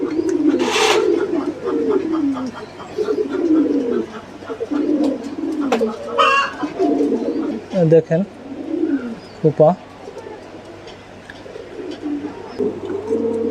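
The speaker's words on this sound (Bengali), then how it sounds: "এখানে এক জোড়া পাখি কবুতর দেখতে পাচ্ছেন" Red Bombay pigeons coo repeatedly in a loft, a steady run of throaty, rolling calls close by, with someone talking over them and a few sharp knocks and rustles.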